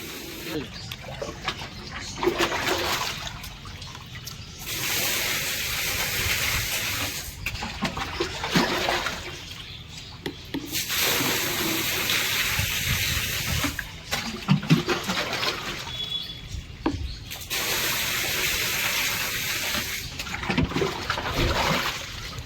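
Water pours from a tap as a storage tank is drained during cleaning, a steady hiss and trickle broken by short gaps, with voices talking over it.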